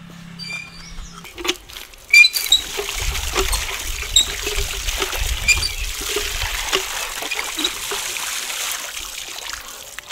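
Tap water patters and splashes steadily as boal fish are washed by hand under a kitchen faucet, with a brief thump partway through and continuous close trickling and dribbling afterward.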